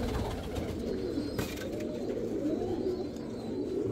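A Teddy pigeon coos softly and repeatedly, close and alone against a quiet room background.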